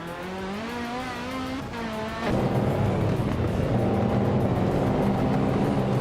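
Race cars launch off the line in a video game race: an engine note climbs and revs up, then a louder, denser roar of several engines takes over and holds steady, close and full.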